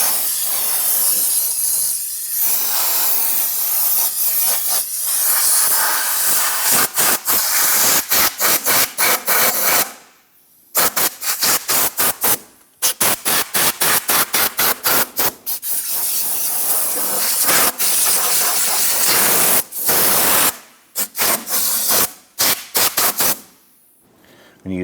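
Compressed air hose blasting debris off the top of a 3.6L V6 engine in a 2011-2021 Jeep Grand Cherokee, loud hissing bursts of varying length with brief silent gaps between them, running throughout.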